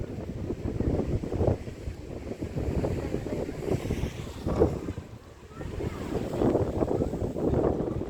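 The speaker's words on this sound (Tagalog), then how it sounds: "Yung hampas alo na yun talaga." Surf churns and rushes continuously against rocks at the Kiama Blowhole in New South Wales, Australia, with swells building into heavier washes every few seconds, mixed with wind buffeting the microphone.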